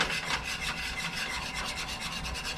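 A utensil scrapes salmon patty bits from a pan in quick, rhythmic rasping strokes, close and steady with no talking.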